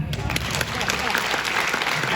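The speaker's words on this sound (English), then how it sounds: "You can applaud for that." Audience clapping in a hall at a Transgender Day of Remembrance gathering, a dense, steady burst of applause filling the space throughout, with a faint voice under it.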